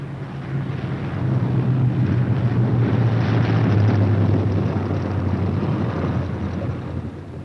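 Bomber planes arrive at an airfield with a deep, droning engine rumble that swells and holds, then eases slightly, with no one speaking.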